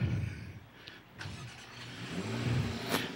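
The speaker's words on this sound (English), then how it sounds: "Listen to that exhaust." A Corvette's exhaust revs close by, a low engine rumble swelling and easing over a few seconds, with a sharper burst near the end.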